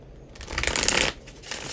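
Riffling and shuffling of a regular-size tarot card deck, a papery burst of card noise swelling in the middle and trailing off, close and fairly loud with no talking.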